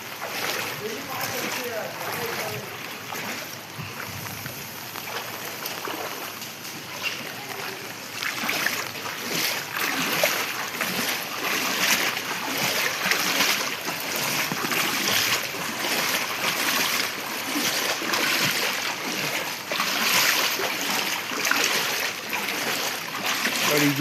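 Water swishes and splashes steadily as someone moves through floodwater on a flooded street on a rainy night, a busy, continuous wash of noise with a voice talking over it at times.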